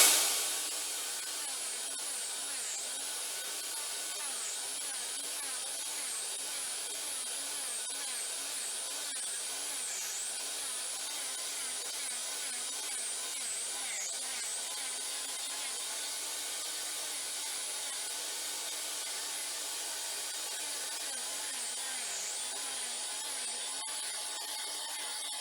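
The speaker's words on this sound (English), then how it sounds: "I'm going to go and grind this area that I showed you before." A grinder works a concrete floor to level it before tiling, a loud steady high-pitched whine and scraping hiss held continuously throughout, close and unbroken, with no talk.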